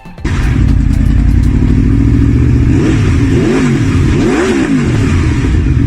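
A 2014 Aprilia Tuono V4 motorcycle, loud and close, its V4 engine bursting from idle into a deep sustained roar with several rising and falling revs and a gravelly, crackling exhaust edge, no voices.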